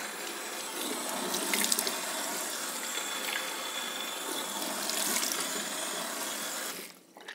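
Tap water runs steadily into a sink while a homemade oil scrub is rinsed off, a continuous close hiss with slight splashing changes that stops abruptly at the end.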